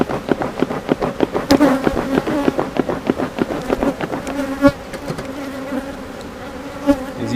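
Honeybees buzz steadily at close range while a hive is opened for inspection, a dense hum that carries some brief higher whines. Light taps and knocks from handling the frames sound through it. There is no talking.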